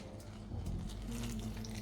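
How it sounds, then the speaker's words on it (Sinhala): Warm water trickles and splashes as it is added little by little to a bun dough mixture, a short soft pouring sound close by with a faint background hum. "ඊට පස්සේ අපි වතුර ටිකෙන් ටික එකතු කරගමු"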